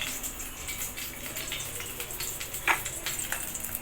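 Whole spices such as bay leaves, cumin seeds and whole garam masala hitting hot oil over low heat to temper for a katla fish kalia, a soft crackling sizzle with one sharper pop.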